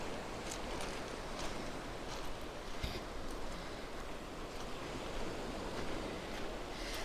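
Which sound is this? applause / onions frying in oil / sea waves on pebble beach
sea waves on pebble beach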